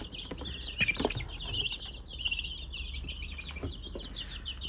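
Chickens, young roosters and hens kept on a balcony, cluck and chirp softly nearby, with scattered sharp calls and bird peeps over a low background hum.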